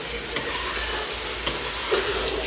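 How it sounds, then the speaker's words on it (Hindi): Chicken fries and sizzles hard in a pot on a high flame, a steady close crackling hiss broken by a few scraping stirs, with no voices. "अभी चिकन हमारा यहाँ पे पूरी ज़ोरों शोर से पक रहा है।"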